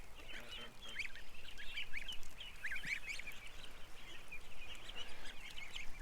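A goose honking by the water near a lawn chair in a yard, bright repeated calls scattered across the whole stretch over steady outdoor background noise, no talking.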